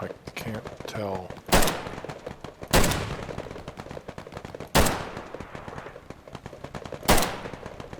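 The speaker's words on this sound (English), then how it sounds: "Seems like the gunshots might make a different sound when you" Gunfire in a video game: four sharp, loud shots spaced a second or two apart, each with a short ringing tail, over a low background and a brief electronic warble early on.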